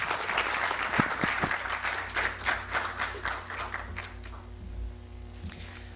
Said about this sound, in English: please welcome Dr. Pierre Tapie with a round of applause